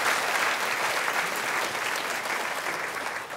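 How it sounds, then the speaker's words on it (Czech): An audience at a Malostranská beseda stage performance applauds, a dense, even burst of clapping sustained for a few seconds before easing slightly at the end. "A zatleskujte."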